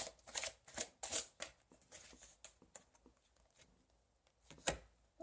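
Tarot cards shuffled and drawn by hand, with a run of crisp riffling slaps and flicks close by, several quick bursts early, sparser taps in the middle and one sharp snap near the end, no talking.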